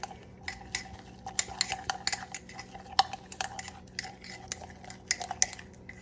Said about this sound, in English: I take my little chopstick and I mix it up